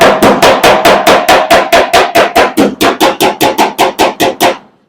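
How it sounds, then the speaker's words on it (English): A hammer strikes the high spots of a dent on a 1970 Dodge Challenger's steel body, about twenty sharp, loud metallic blows in a fast, steady rhythm, close up and alone. "I'm pushing up underneath there while hammering down on the high spots."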